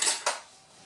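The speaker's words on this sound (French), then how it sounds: "je vais prendre une cuillère" A spoon clinks against other metal kitchen utensils as it is picked up, two quick bright clatters close by, then a fading ring.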